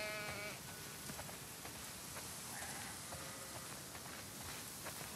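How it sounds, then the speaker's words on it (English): Several sheep in a video game bleat in quick succession at the start, then scattered faint calls continue over a steady hiss resembling light rain. "Wow, that's a lot of sheep."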